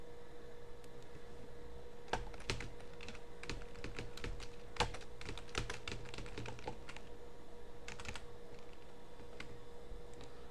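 Light, irregular keystrokes on a computer keyboard as a file name is typed in ArcGIS Pro, with scattered clicks over a soft, constant electrical hum.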